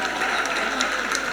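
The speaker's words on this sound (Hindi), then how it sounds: "ताली बज गई।" An audience in a hall claps during a Jain monk's discourse, a dense, even wash of applause that holds steady without pause.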